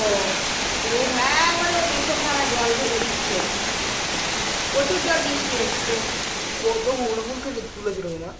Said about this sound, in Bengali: এখন আর বৃষ্টিটাও এলো বাপরে কি করে বৃষ্টি এসছে দেখো